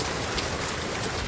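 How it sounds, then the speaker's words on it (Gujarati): Heavy rain pours down in a dense, unbroken hiss of drops hitting surfaces, steady and close with no voices. "જો વરસાદ તમને બતાવું છું અત્યારે આમ જો આવ્યો ભાઈ"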